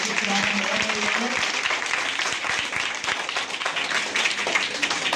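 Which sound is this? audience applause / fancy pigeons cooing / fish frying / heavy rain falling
audience applause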